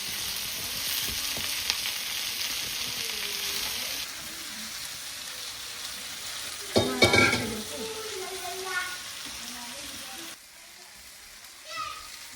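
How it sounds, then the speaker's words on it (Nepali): Onions sizzling in a pan for chicken biryani, with stirring scrapes and clatters, a few bursts of louder clanking, and people talking in the background. "यहाँ चाहिँ हामी प्याज भुट्दैछौँ बिरयानीको लागि।"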